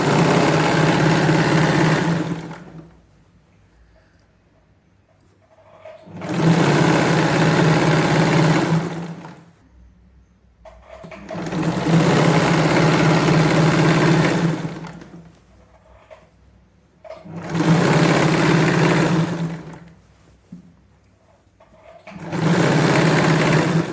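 An electric sewing machine stitches a palazzo pant in five bursts of steady motor whirring, each a few seconds long and separated by short pauses, loud and close with no voices.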